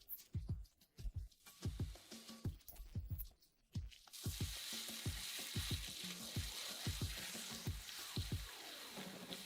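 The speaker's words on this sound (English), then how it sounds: "We send it to the wok, egg noodles here and mix it for the last time." Egg noodles and sauce are stirred in a wok, wet squishing scrapes in a steady rhythm, joined midway by a loud continuous sizzle of frying beneath the repeated stirring.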